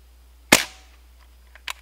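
A Crosman M4-177 pellet rifle, pumped twice, fires a single sharp, close crack with a short decaying tail, followed by a faint tap and a small double click.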